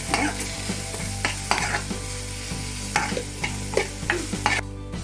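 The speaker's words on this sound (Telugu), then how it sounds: "ఇవి ఫ్రై అయ్యే వరకు ఇలా మిక్స్ చేసుకోండి. కొద్దిగా ఫ్రై కావాలి." Paratha filling with turmeric is stirred and fried in a pan, making a steady run of close scraping strokes at a regular pace over a continuous sizzle, with no voices.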